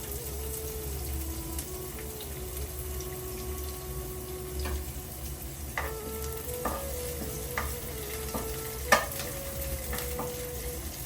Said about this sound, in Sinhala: අද කඩල තෙම්පරාදුවට මම කැරට්, ගෝවා, කූනිස්සොත් එකතු කරගන්නවා.